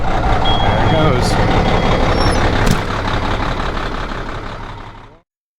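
A Peterbilt flatbed truck's big diesel runs loudly and close, a dense rumbling roar with a short high squeal and a brief air hiss partway through, fading slightly before cutting off.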